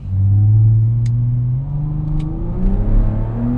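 A 500 hp turbocharged Audi TT VR6 accelerates hard with a loud, deep engine note that climbs in pitch, drops at gear shifts and climbs again, with a couple of brief sharp clicks from the cabin.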